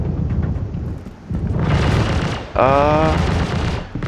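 Heavy gunfire pounds a ship in the Star Citizen video game, a dense, loud barrage of rapid impacts and blasts that surges after a brief lull and keeps rumbling close throughout.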